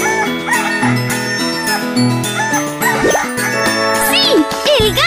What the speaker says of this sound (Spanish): ¡Sí! ¡El gallo!